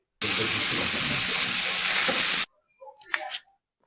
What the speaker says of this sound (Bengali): তাই বেগুনটা ভেজে নিচ্ছি